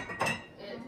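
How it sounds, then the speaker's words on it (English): Dishes clink together in a brief, faint rattle as they are put away in a home kitchen, a single short burst against quiet room noise. "sister is then going to put dishes in"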